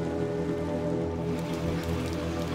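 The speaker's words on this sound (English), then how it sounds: "Back outside again in the rain." Steady rain falling outdoors in the video game Little Nightmares 2, a constant soft patter spread evenly over a low ambient game drone with no voices.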